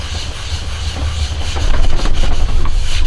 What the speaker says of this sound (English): Rub that down really good like that.